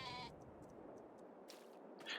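Sheep bleat in Farming Simulator 22, a few faint nasal calls set against a quiet background, with one brief louder burst near the end and no talking.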